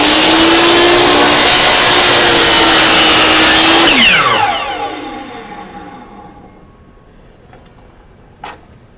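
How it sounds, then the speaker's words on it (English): A miter saw cuts a wooden miter for a jewelry box, a loud, steady whining roar that drops in pitch and winds down after the cut, followed by near silence and a single small knock. "I just finished cutting all my right hand miters."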